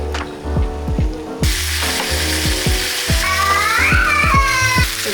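Steaks searing in a grill pan give off a steady loud sizzle, while a rhythmic series of sharp clicks and knocks runs through the whole stretch, with a brief tonal squeal near the end.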